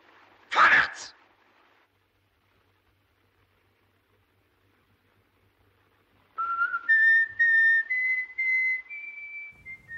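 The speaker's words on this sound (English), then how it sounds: "followed by this ironic whistle tune" A short burst of noise at the start, then silence, followed by a clear, melodic whistled folk tune, "Üb immer treu und Redlichkeit," of several sustained notes, fairly close and alone, from the 1931 film M.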